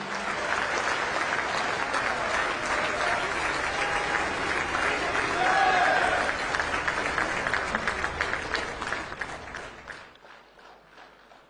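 A large audience at the Vibrant Summit 20-year celebration in Ahmedabad applauds to welcome PM Modi, with thick, sustained clapping for about ten seconds before it abruptly drops away to quiet.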